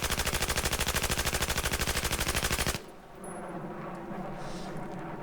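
A fully automatic assault rifle in Battlefield 4 fires a rapid, loud, evenly spaced burst at a wall for nearly three seconds, then stops abruptly, leaving quieter background noise behind.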